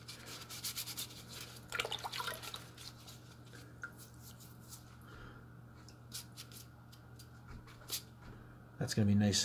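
Stain is rubbed onto pressed plant ornaments with soft, repeated scratchy strokes that stay faint under a low background hum, while a person talks quietly.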